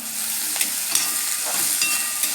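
Green chillies sauté in a small amount of oil in a pan, giving a close, continuous sizzle with soft scraping from stirring at a few points.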